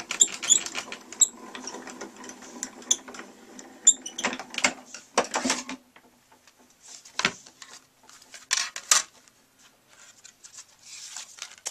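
A Spellbinders Grand Calibur die-cutting machine is cranked by hand, giving bursts of clicking, ratcheting mechanical noise with short pauses between turns, fairly close and quiet.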